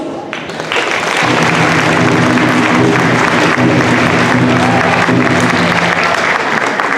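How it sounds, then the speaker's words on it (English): A crowd at a high school graduation ceremony breaks into loud, sustained applause and cheering that fills the hall for several seconds, with a low hum of voices beneath the clapping. "Can we get another round of applause?"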